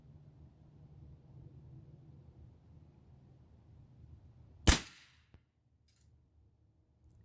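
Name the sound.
Gamo Varmint air rifle firing .177 pellet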